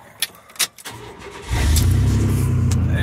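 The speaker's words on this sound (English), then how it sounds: "and then we'll restart the vehicle." A 1987-93 Chevy truck with throttle body injection restarts after ignition timing work: a few clicks and a brief crank, then the engine catches and settles into a loud, steady idle close by.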